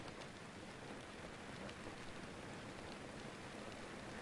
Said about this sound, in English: Oh, that rain is lashing.